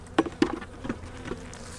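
Honey bees that fell from a frame of comb buzz on the ground near a spring hive, a close, steady insect drone broken by a few brief knocks and thumps.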